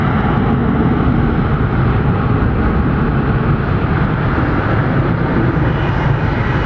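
Wide-body airliner departing Hartsfield-Jackson Atlanta airport on a non-stop flight to Lisbon, a loud continuous engine roar that holds steady and fills the whole clip.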